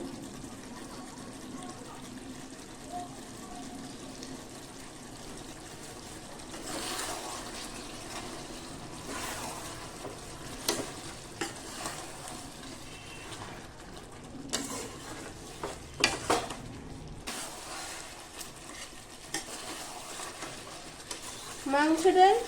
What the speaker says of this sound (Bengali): ভাজা মশলাটা দেওয়ার পর বেশ কিছুক্ষণ মিশিয়ে নেওয়ার পর